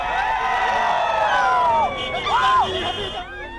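A large roadside crowd cheers a passing ASEAN-India car rally in 2004 on a foggy, cold morning: a dense, continuous wall of close, loud voices, with individual shouts and calls rising and falling above the hubbub throughout.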